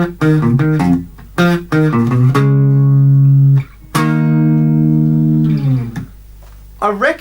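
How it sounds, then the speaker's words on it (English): Single-note electric guitar riff from the chorus of a song: quick plucked notes, then long ringing sustained tones, loud and alone. "For the chorus, we have this single note riff which red is playing"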